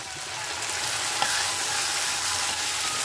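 Potatoes and a ground spice paste fry in hot oil in a pan, a dense, continuous close-up sizzle with a faint stir partway through and no voices.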